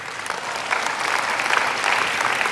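A church congregation applauds during a sermon, a steady full-room clapping that holds at an even level throughout, with no voices over it.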